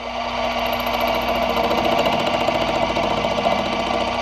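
A drill bores a hole into the center of a metal block for a pen holder, a loud steady grinding whir with rapid rhythmic chatter that runs through the whole few seconds.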